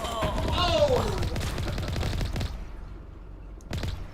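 Pistol fire from the video game Mass Effect comes in a rapid, loud burst of sharp shots over clanking game noise, then thins out, with one last short crack near the end; a person exclaims over part of it.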